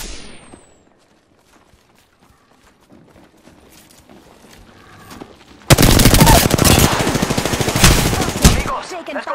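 After a quiet, sparse opening, sustained automatic gunfire erupts in Apex Legends, loud, dense rapid shots continuing for several seconds until the end.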